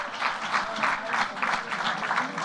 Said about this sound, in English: Let's please give a round of applause for Jonathan Priester from Google